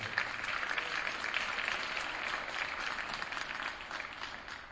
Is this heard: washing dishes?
no